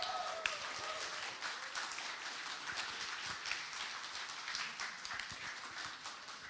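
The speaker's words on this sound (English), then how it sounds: "Let's give a really, really good cheer for these" An audience at a community meet-up claps and cheers in a dense, continuous burst of applause, holding steady before easing slightly toward the end.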